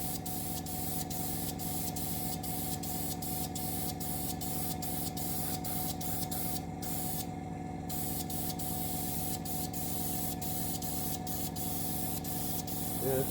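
Flat lacquer paint hisses steadily from a spray can onto a plastic model of a Russian Navy Project 955 Dolgoruky submarine. The close, continuous spray runs the whole time, with faint regular clicks and a brief pause midway.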